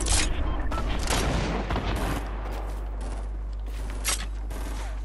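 Fortnite duos match with explosions and rapid gunfire bursting loud and dense for about two seconds, then a steadier rumble with scattered sharper blasts, including one near four seconds.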